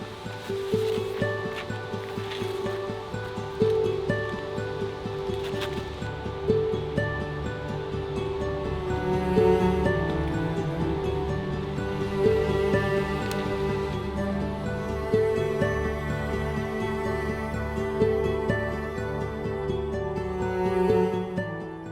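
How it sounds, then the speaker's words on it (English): Several waterfalls pour down into a lake in Croatia, a steady broad rushing wash of water heard continuously from a viewpoint, with faint tonal sounds layered over it and no talk. "there's so many waterfalls just flowing down into the lake"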